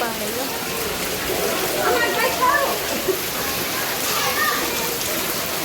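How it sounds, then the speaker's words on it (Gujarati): Rain falls steadily onto a street flooded with water, a constant hiss of drops spattering on the surface, while people talk over it now and then. "પલ્લુ વરસાદ આવ્યો."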